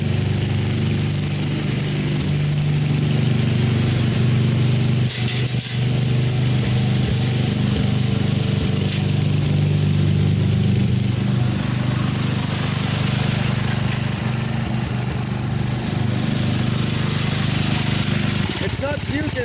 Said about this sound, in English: But it started running better. I was driving it around.